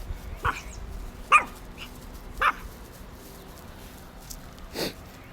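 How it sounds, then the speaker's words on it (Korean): A dog barks several times at a moderate distance, three short sharp barks spaced about a second apart, then a softer lower yelp. "진짜 강아지처럼 짖는다 월월 하고 짖네"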